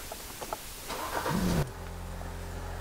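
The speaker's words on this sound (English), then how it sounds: "Let's get this car started." A car with an EVAP fault code P1450 and a bad purge solenoid cranks briefly, fires and settles into a steady, low idle. The engine is heard up close and moderately loud.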